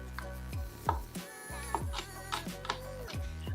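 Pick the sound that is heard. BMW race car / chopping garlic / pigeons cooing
chopping garlic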